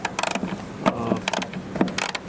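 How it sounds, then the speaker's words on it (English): Small 7mm socket loosening the license plate light screws on a Chevrolet Express van, giving a few faint ratcheting clicks and light metallic mechanism rattles close by. "We're using 7mm socket."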